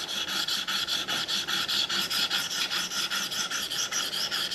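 A knife blade is rasped back and forth on a KME sharpener in quick, even strokes, about four per second, a close, rhythmic gritty scraping heard alone without speech.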